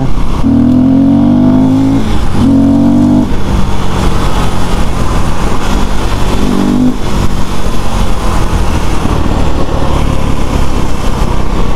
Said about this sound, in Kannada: ಡೌನ್ ಶಿಫ್ಟ್ಸು ಏನು ಗುರು, ಏನು ಸೂಪರ್ ಸ್ಲೀಕ್ ಆಗಿದೆ.